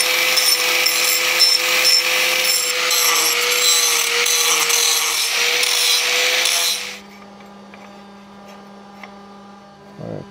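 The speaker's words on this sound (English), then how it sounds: "I'm gonna grind these down." Metal pieces about 1/8 inch thick are ground down with a power grinder: a loud, steady grinding rasp runs for about seven seconds, then cuts off, leaving a low residual hum and a faint knock near the end.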